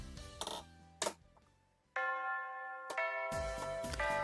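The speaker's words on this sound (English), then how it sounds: "The long-awaited final bell of the day has rung." School bell in a visual novel game, a chiming melody of clear sustained bell tones that start after a few short knocks, ringing on with layered overlapping notes, no talking.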